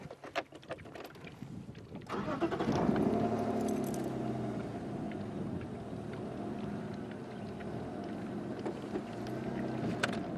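A safari vehicle in the Sabi Sand reserve starts up after a few clanks and settles into a low, steady engine rumble as it eases backward, fairly close and continuous, with no voices over it.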